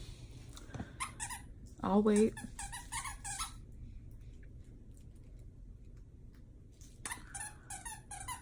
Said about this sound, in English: every time I literally try to videotape, Dewey has a squeaky toy